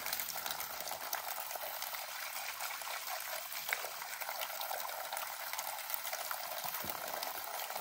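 Running water pours steadily while something is washed during tea making at an old farmhouse in Nagano. It is a constant, fairly quiet rushing stream heard alone without pause.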